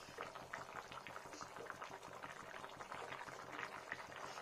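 A pot of potato, pea and paneer curry bubbles steadily at a soft, continuous simmer, quiet and close.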